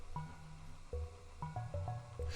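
Bell-like synth notes in a music production session, a short sequence of clear struck tones with ringing decay over a soft low bass, moderately quiet.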